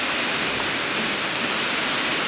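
Heavy rain pours steadily outside a farm home during a major storm at harvest time, a dense, unbroken hiss that stays loud and even throughout with no voices.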